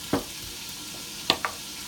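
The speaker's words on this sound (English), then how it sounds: "We're just going to put that in here because we're going to fry this." Salmon fries in olive oil in a pan with a steady, faint sizzle, broken by three sharp scrapes or clinks of a utensil, nearby and without talk.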